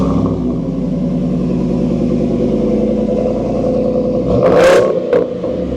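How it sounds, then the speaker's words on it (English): A Ford F-150 pickup's engine fires up through an aftermarket AWE exhaust, settling into a steady, loud, close idle with a brief throaty rev blip near the end and no talking. "let's go ahead and take a listen with the first startup for this AWE exhaust"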